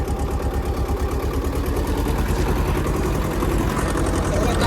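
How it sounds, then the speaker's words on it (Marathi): Tractor engine labouring under heavy load while sowing a field, a loud, steady low rumble with rapid pulsing firing beats that continues unbroken and close by. "मित्रांनो ट्रॅक्टरला लोड घेऊ राहिला"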